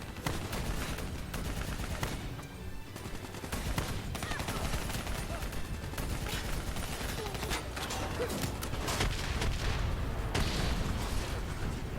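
Dense, continuous gunfire and explosions in the Black Ops 3 campaign video game, rapid bursts of automatic fire layered over booms, loud and unbroken for the whole stretch, with game dialogue mixed in.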